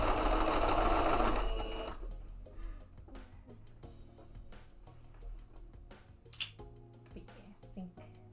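A sewing machine stitches fabric for mock-up shorts in a fast, loud whirring burst, then falls to softer clicks and handling sounds while people talk quietly.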